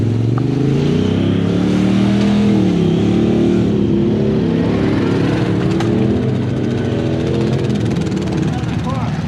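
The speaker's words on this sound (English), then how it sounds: "All right, there's another car coming." A car approaches and rumbles past at close range on a rural property where ATVs are being ridden, its engine a steady, loud drone that swells and fades, with voices talking over it.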